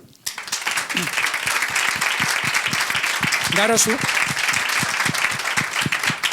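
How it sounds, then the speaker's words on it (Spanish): Audience applause for a panel at a conference on family business professionalization: steady, dense clapping from a room of people, with a voice speaking over it partway through. "yo creo que mis compañeros de mesa se han ganado un aplauso"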